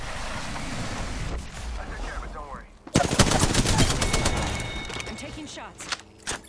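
Rapid bursts of video game gunfire crackle in dense, loud volleys after a quieter opening, with a player's voice talking over the action.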